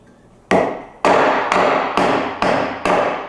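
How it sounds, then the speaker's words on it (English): Six sharp metal strikes from the hammer head of a Crovel survival shovel, evenly spaced about half a second apart, each loud and close with a ringing decay, heard alone without talk. "You've got your hammer here."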